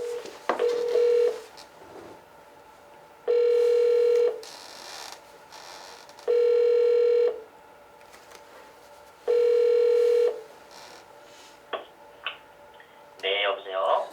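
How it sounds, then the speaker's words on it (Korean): A telephone call is placed and connected over a studio line: rapid dialing beeps, then four long, loud ringback tones with pauses between them, and a final cluster of keypad tones. "전화를 한번 연결해 보려고 합니다"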